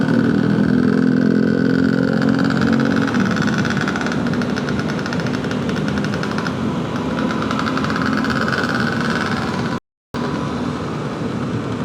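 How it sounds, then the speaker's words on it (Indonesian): A motorcycle pulling away and accelerating on a Jakarta city street, its engine droning loud and close with rising revs over steady traffic and road noise, cut by a brief dropout near the end. "sepertinya sudah hijau, jadi kita gas lagi"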